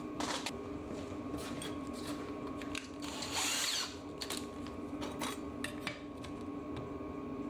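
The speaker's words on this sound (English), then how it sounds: "then we'll step it up to a big drill." Big power drill boring holes in steel suspension brackets for a classic Mini, with intermittent bursts of whirring and grinding, metallic clatter between passes, and one louder sustained cut in the middle.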